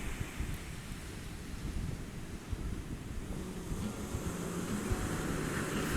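Ocean waves rolling in to the shore, a continuous broad wash of surf with wind noise buffeting the microphone, steady and fairly loud throughout with no voices.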